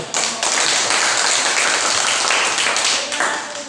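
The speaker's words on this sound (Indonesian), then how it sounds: "Berikan tepuk tangan untuk" Dense applause fills the space, many hands clapping steadily and loudly for a few seconds.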